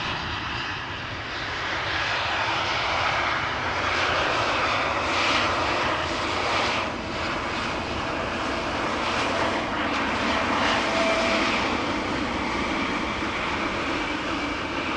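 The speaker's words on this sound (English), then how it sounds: "the noise from spooling up engines blows in this direction" Airliner jet engines roar continuously at a distance at Amsterdam Schiphol Airport, a broad steady whoosh that swells slightly as they spool up.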